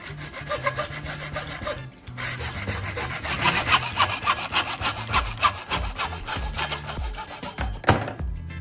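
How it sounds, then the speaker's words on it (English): A small hand saw cuts through a plastic tube with steady back-and-forth rasping strokes, close and moderately loud, with a short pause partway through. "use a small saw to cut along the mark on the plastic tube"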